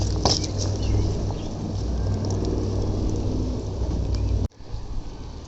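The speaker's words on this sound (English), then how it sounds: "So we're starting to get some rain." Steady rain falling outdoors in a cut flower garden, a dense constant patter with low rumbling beneath, cutting off abruptly near the end to a quieter wash.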